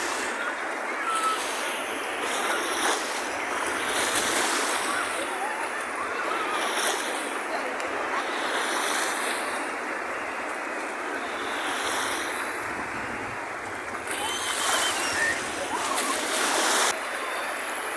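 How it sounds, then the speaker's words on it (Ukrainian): Steady Baltic Sea surf at Kołobrzeg washes and rolls continuously, with breaking waves swelling now and then and some wind buffeting the microphone. "шум прибою чути, да?"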